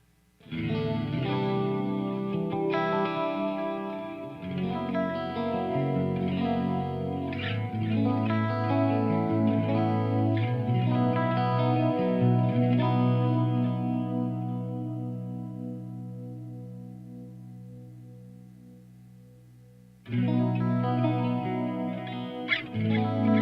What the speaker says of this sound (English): Let's turn on the chorus and the delay.